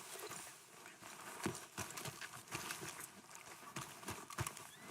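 A horse in Red Dead Redemption 2 walks with steady, soft hoof clip-clops, fairly faint, with no talk over it.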